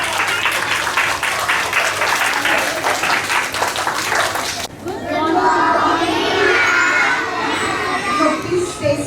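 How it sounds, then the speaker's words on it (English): Children in a class assembly clap and shout together in a loud, dense burst of applause that stops abruptly, then a noisy room of excited kids' voices chattering and calling out follows. "Again, please put an applause for yourself because you learned so much today."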